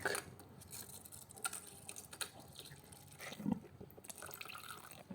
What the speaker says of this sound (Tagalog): And lagyan na lang kagad natin ng tubig